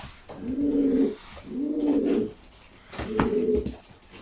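Flight pigeons coo close by in three distinct, drawn-out throaty phrases separated by short pauses.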